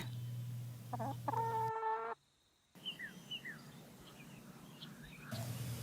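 A chicken clucks nearby in a quick burst of short calls, followed by a brief silence, then faint bird chirps and outdoor background.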